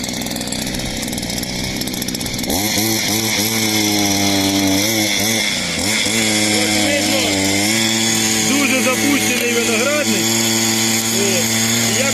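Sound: petrol brush cutter used as a motor hoe tilling heavy soil

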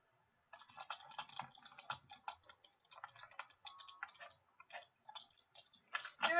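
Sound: computer keyboard typing

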